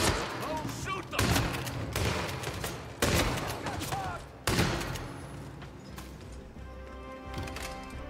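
Bursts of video game gunfire crackle in several loud volleys about every one to one and a half seconds, with people talking over and between the shots.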